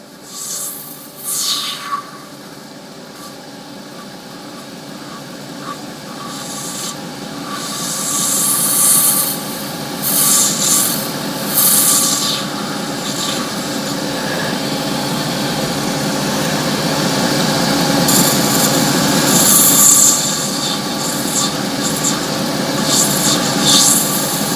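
Turning tool cutting a hollow into wood spinning on a lathe, with the tool's edge dulling; a steady, continuous scraping whine with a resonant hum that grows louder and rasps in bursts, no talk.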